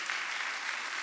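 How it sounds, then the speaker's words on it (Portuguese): A church congregation applauding Jesus, a brief, steady wash of clapping from many people, moderately loud and unbroken. "Pode aplaudir, vou ouvir uns aplausos lá no final da igreja."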